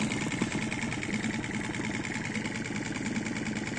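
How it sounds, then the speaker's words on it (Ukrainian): A Mercury 6 four-stroke outboard boat motor runs at a steady idle, giving an even, continuous mechanical hum with a fine rapid pulse. "Працює моторчик ідеально, охолодження."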